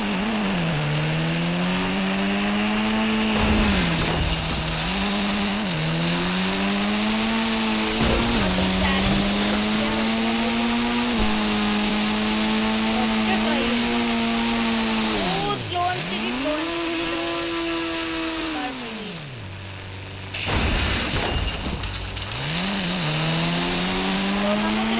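A GTR car's engine drones steadily in the mobile game Indian Bike Driving 3D, its pitch rising and falling through gear shifts and dipping sharply twice, loud and continuous throughout.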